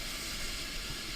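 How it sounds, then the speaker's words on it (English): A steady broadband hiss of steam from the steam locomotive Tornado on the railway line over the Ribblehead Viaduct in North Yorkshire, continuous and even throughout with no voices. "a steam locomotive, the Tornado, crosses North Yorkshire's famous Ribblehead Viaduct"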